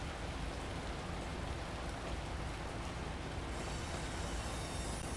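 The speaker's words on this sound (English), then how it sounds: "And it just started raining too." Steady rain patters continuously in a train simulator game set on a North American railroad, a dense even hiss with no voices, lightening slightly near the end.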